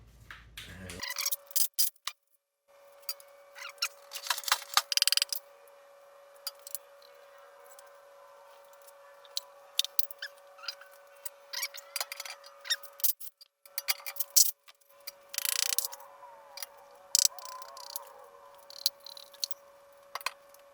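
A socket wrench pulling pistons from a blown 5.3 LS engine, with sharp ratcheting clicks and metallic ticks in irregular bursts, close and fairly quiet, separated by short pauses and a faint steady tone.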